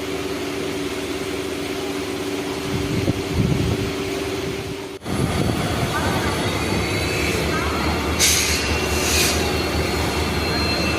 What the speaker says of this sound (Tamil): இதுதான் காரைக்காலிலிருந்து திருச்சி வருகின்ற பேசஞ்சர் ட்ரெயின்